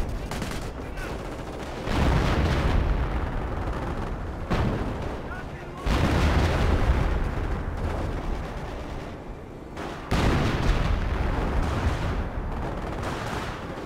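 Artillery fire in a tank video game, three heavy booming shots spaced several seconds apart, each followed by a long rumbling decay, loud and close with game noise between.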